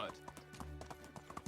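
Rapid horse hoof clip-clops from riding in the video game Medieval Dynasty, a quick even rhythm of several beats over background music.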